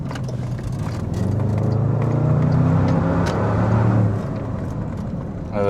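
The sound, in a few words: Porsche Techart Magnum SUV engine sound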